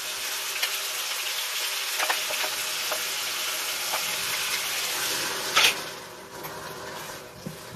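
Pork sizzles and fries steadily in a pan while cooking for ginataang langka, a constant bright crackle with a few small pops and a brief louder hiss near the end; no talking.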